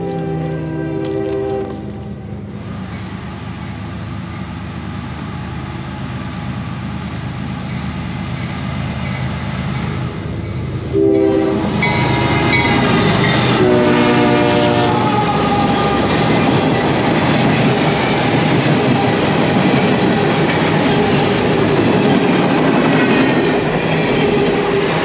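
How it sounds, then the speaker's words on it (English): A train passes close by on a road trip near Bear Mountain, a loud steady rumble and clatter of wagons rising around the midpoint, with horn-like tonal lines and no talk. "Another train."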